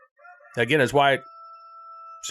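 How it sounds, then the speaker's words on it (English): A rooster crows right outside, a loud harmonic cock-a-doodle-doo close by, with a voice starting briefly just before and after it. "I don't know if you can hear my rooster right outside."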